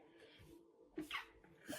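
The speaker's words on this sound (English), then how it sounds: "Random ass sneeze in a reading." A single quick, sharp sneeze bursts out close by, faint, after a moment of quiet.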